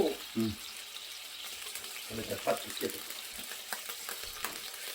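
Fuki stalks and tofu are stir-fried in a pan after a splash of water, giving a hissing sizzle with scraping stirs and a few clinks, while someone talks over the cooking.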